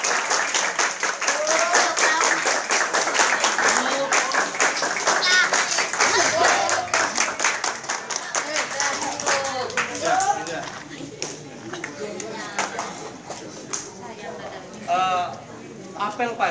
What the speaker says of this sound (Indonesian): Tepuk tangan untuk petugas apel.